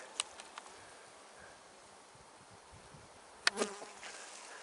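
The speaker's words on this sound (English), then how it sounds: "I got some bees hitting me in the head, so I'm gonna kneel down here." Honeybees buzzing around a hive in a spring orchard of blossoming plum, cherry and apricot trees, a steady faint hum of many insects with a louder bee darting close past the microphone near the end.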